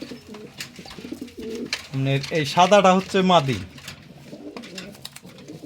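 Racing pigeons, mealy and grizzle birds being paired, coo in rolling bursts near the listener, loudest in the middle, while someone talks before and after.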